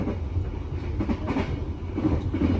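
A Motis passenger train carrying motorcycles rumbles along at a steady, close, moderately loud level. The low rolling and rattling noise carries on throughout with no talk.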